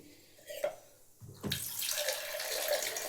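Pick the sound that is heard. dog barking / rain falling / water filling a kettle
water filling a kettle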